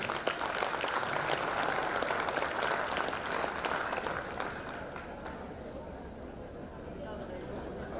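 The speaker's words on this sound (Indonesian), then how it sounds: "Beri aplaus dong buat bapaknya" An audience applauds at a team gathering, with dense, steady clapping from many people that fades slightly toward the end.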